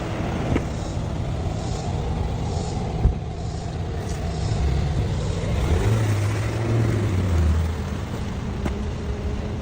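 A car engine rumbles steadily and swells around the middle as the car pulls away, a low continuous drone with no talking over it.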